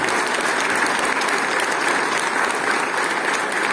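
An audience applauds at an International Women's Day theatre event in Santa Bárbara, a dense, even burst of many hands clapping that holds steady throughout without pause.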